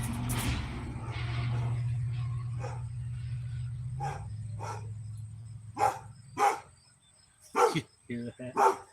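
A dog barks in short sharp bursts near the end after a passing UPS truck, following a stretch of low engine rumble, with a little talk early on.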